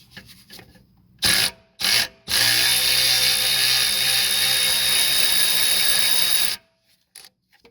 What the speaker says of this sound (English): I'm able to bar the motor over using the alternator nut.